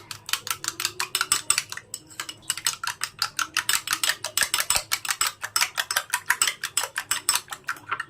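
A whisk or fork beating a cracked egg seasoned with salt and ground pepper in a bowl, for Nargisi kofta: a fast, steady run of sharp clinking strokes, close and fairly loud, with no talking.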